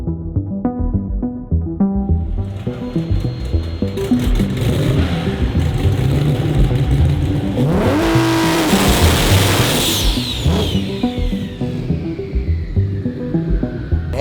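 A Nissan GT-R drag car with a 250 shot of nitrous at a TX2K23 drag event roars loudly nearby with a deep throbbing engine, revs climbing to a sharp rising whine before fading off into the distance.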